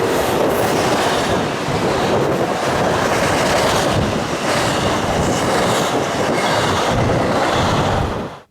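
A Norfolk Southern mixed freight of auto racks and intermodal cars rolls steadily past, a loud continuous rumble with clickety-clack of wheels on rail joints throughout, fading only at the very end.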